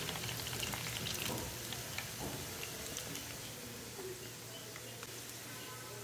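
Beef sizzling and frying in a pan while making restaurant-style beef noodles, a steady broadband crackle with occasional stirring clatter, heard close and fairly quiet with no talking.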